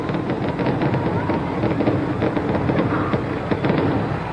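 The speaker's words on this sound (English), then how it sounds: "It's fireworks, and it is fireworks in the vicinity of President Nixon." Fireworks near Marine Stadium on Key Biscayne, a dense continuous rumble of crackling bursts and pops, loud and unbroken throughout.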